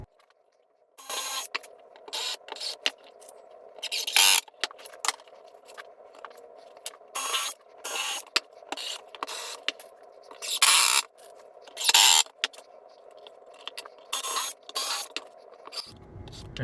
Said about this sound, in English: I also countersink every hole because Douglas fir has the tendency to crack